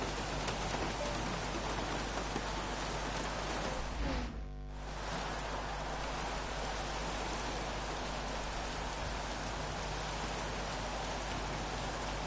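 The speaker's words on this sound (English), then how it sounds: "an onboard guide to the track in the rain for the first couple of laps" Steady rain hisses on the track in an F4 racing video game at a Japan circuit, a dense even wash of drops that dips briefly in the middle before continuing.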